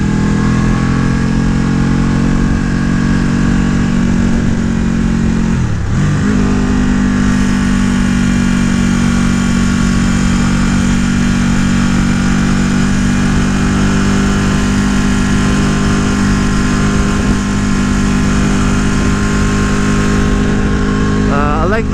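A 2014 Ducati Panigale 1199R sport motorcycle engine runs loud and close for the whole stretch, holding a deep, throbbing note with a brief rev dip early on and a rising rev near the end.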